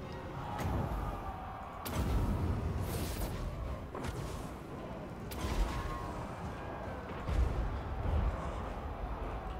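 Hell Cannon artillery fires in the Warhammer II strategy game, several heavy booming thuds spaced across a dense, continuous battle din with rumbling low end.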